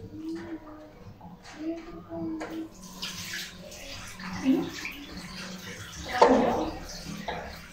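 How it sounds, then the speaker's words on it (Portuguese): Tap water running while a face is washed with coconut soap, a continuous close splashing with louder bursts of water against hands and skin and faint voices in the background. "Vou pegar um pedaço de sabão de coco e vou lavar o meu rosto."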